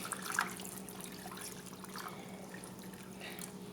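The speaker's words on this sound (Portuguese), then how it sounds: "eu venho com a água em temperatura ambiente e vou cobrir esse macarrão" Room-temperature water poured from a container over pasta in a dish to cover it for microwave cooking, a steady soft splashing trickle lasting a few seconds at moderate loudness with no talking.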